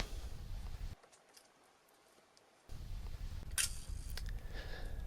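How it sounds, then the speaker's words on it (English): The shutter of an Ihagee EXA 500 camera under repair, with IPA on its gears, fires once, a faint mechanical release and then a few soft ticks and clicks up close, with no talking. "and then operate the shutter."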